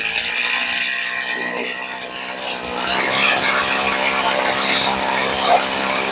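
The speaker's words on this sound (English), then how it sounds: "Okay, we're going to turn the idle up a little. Just so she doesn't stall." A Stihl weedeater, its carburetor rebuilt and its idle raised, runs with a loud, buzzing two-stroke whine close up; the pitch briefly dips before climbing back and holding steady.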